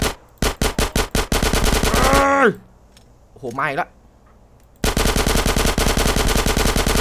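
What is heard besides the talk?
gunfire in video game GTA San Andreas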